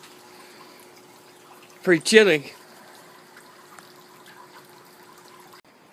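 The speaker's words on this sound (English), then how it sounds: "Looks like our little water fountain freezing up for the first time this year." A small outdoor garden water fountain trickles quietly and steadily in freezing cold weather, with a brief spoken remark over it midway.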